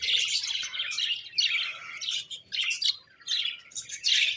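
Cockatiel chicks in a breeding cage, giving shrill, rapid chirps in close, repeated bursts that run almost without pause, no talk.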